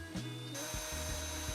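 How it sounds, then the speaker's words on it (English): A power drill with a 10mm bit bores holes in a bracket for a GR Yaris front splitter. It gives a steady, close whirring drone with brief dips and catches as the bit bites, and no voices. "So with the 10mm drill bit, we're going to drill out these 4 holes."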